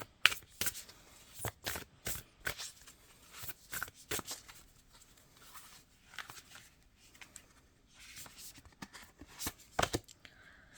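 Angel cards are drawn from a deck and handled with quiet papery flicks, slides and shuffles in irregular bursts, soft and close, with no talk.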